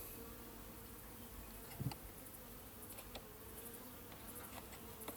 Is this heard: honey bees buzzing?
yes